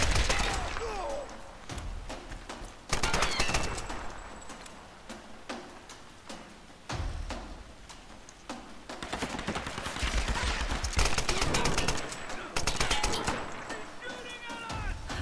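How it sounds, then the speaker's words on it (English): Gunfire in the video game Tomb Raider (2013), sharp bursts and single shots spread across the clip with short pauses, some loud and close, with a few shouted voices scattered between. "Of course I'm shooting at you"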